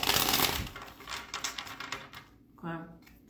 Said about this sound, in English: as you can tell by me shuffling the cards